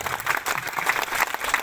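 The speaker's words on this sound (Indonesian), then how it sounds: "Tepuk tangan lu untuk Lombok Barat" Audience at a dialogue event with the Lombok Barat regent claps briefly, a short burst of scattered, fairly close handclaps with uneven rhythm.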